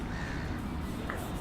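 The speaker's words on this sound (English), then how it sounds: "That's pretty much just a flock of seagulls fly over here." A flock of seagulls calls overhead at a cricket ground during a Premier League match, with faint, distant cries over steady outdoor background noise.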